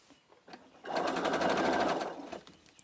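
Sewing machine stitching a batch of fabric face masks in a chain, a fast rhythmic mechanical whir lasting about a second and a half, close and loud after a few quiet handling clicks.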